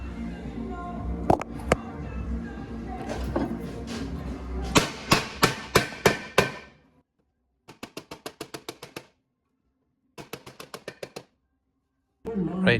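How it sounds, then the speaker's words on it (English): A car exhaust pipe on a Toyota Corolla is hammered to finish a bend: sharp metallic blows, first irregular, then bursts of rapid evenly spaced strikes separated by short silences, close and loud. "I have it here just on the bit of the round and the hammer, just to kind of get rid of that and finish the bend"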